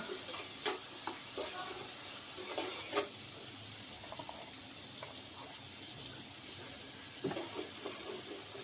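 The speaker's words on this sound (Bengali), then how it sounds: "এবার রসুন বাটা দিয়ে দিলাম। রসুনটা একটু ভাজা হোক" Garlic paste frying in a pan with fried onions, giving a soft, continuous sizzle with occasional faint clinks and stirring noises, quiet throughout.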